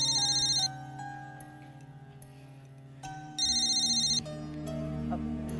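A telephone ringtone from an indoor scene in a Marathi TV drama plays in two loud, bright electronic bursts separated by a pause, with steady background music underneath.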